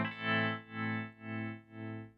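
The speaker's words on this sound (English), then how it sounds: "now I get the exact same tremolo sound, but at half time" Guitar run through a Strymon Mobius tremolo pedal set to half time at 120 beats per minute, its sustained chord swelling and dipping in four slow, even pulses, loud and alone with no voices.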